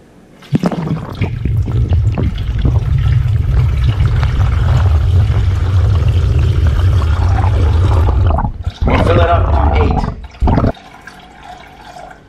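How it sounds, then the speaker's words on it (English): Water pours in a steady, loud gushing stream into a home coffee maker's reservoir for about eight seconds, then briefly stops, resumes and ends with a few trickles. "And now let's pour some water in here."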